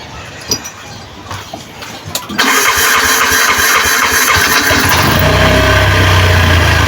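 A 236cc motorcycle with a clogged injector cranks with faint clicks, then its engine catches and runs loudly and steadily close by, the idle deepening into a rough rumble near the end.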